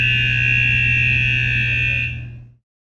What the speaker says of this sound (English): It will also sound alarm to notify all personnel about the danger.